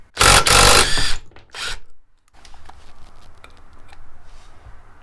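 Metal tool clatter and ratcheting as the center bolt comes off a WR450 motorcycle engine in a YFZ450/WR450 hybrid, a loud burst of clanking up front, then a lull and quieter scattered clicks and taps.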